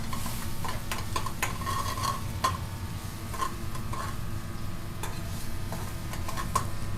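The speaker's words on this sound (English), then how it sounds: "Now lots of chopped garlic. Let's give that a nice stir." Chopped garlic frying in a pan on a restaurant stove, with a steady sizzle throughout and repeated scraping stirs and light clinks of the spoon against the pan.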